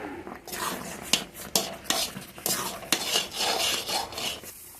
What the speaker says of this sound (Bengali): এখন একদম গ্যাসের আঁচটাকে একদম মিডিয়াম করে নাড়ার মধ্যে থাকতে হবে